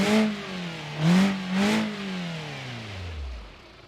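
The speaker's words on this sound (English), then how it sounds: "it has a bit more of a aggressive exhaust note because of the Vanos." BMW E36 engine with Vanos variable valve timing and a sound mod, revving up twice in quick sharp blips over a steady idle, then the pitch sinks as the revs die away, close and fairly loud with no talk.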